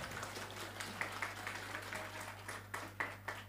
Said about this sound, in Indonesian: Tepuk tangan buat anak-anak kita.